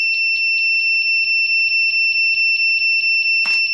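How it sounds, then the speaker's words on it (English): A UV printer's shrill electronic sensor alarm beeps in a fast, steady pulse, loud and close, with a brief click or rustle near the end. "That alarm you hear is the sensor,"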